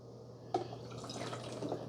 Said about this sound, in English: You're going to pour that right into the machine.